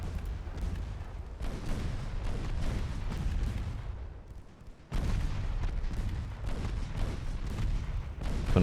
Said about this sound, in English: Range guns are opening up.